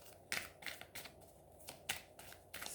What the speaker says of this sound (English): it's small enough to fit into my hands. I've got big hands, so it's nice to shuffle